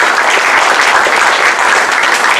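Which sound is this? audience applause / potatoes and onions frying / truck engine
audience applause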